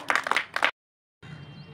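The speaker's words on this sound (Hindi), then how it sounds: "जोरदार ताली लगा दीजिए" Schoolchildren clap loudly for the winners of a classroom game: a brief, dense burst of clapping lasting under a second, followed by a sudden silence and then low room noise.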